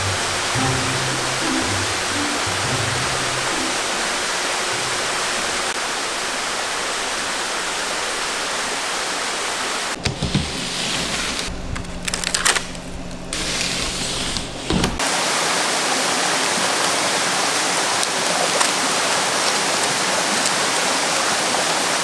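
A mountain valley stream flows steadily, rushing water broad and loud, with a brief stretch of quieter, broken noise midway before the flow resumes.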